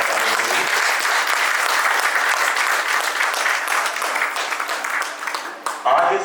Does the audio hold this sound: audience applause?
yes